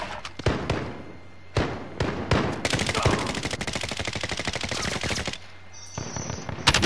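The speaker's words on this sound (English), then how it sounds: "someone's on the roof shooting" Rapid bursts of automatic gunfire ring out from a rooftop shooter in the video game Call of Duty: Modern Warfare, loud sustained rattling volleys broken by short pauses and a few heavy thuds.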